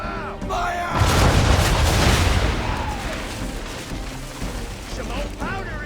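Ship cannons firing in Assassin's Creed III, a deep booming volley that rolls out and decays over several seconds, with shouted voices before and after the blast.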